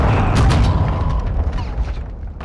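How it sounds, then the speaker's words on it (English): A cruise missile explodes in a video game, a loud low boom with rumbling debris that carries on and fades slowly over a couple of seconds. "Friendly cruise missile approaching target."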